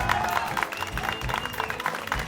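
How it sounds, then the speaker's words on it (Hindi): Scattered clapping rings out in a lively domestic comedy scene, a short burst of hand claps mixed with background chatter. "ताली मार"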